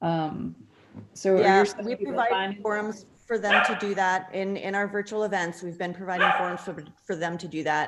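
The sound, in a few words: dog barking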